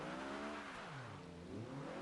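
VW Corrado engine in the racing game Forza Horizon 2, a smooth revving drone with rising and falling harmonic pitch as the car accelerates and eases off, steady and moderately quiet, with no talking.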